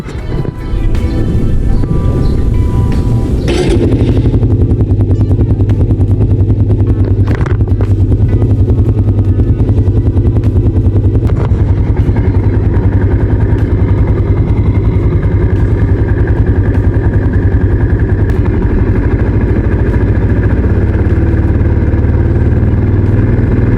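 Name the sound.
motorcycle engine starting and idling after spark plug check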